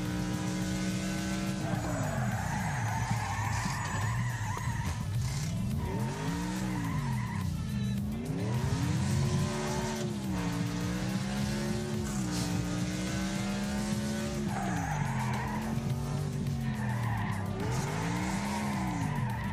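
A race car in a racing video game spins out, its tires skidding and squealing in long rising and falling wails over a steady engine drone, loud and continuous throughout.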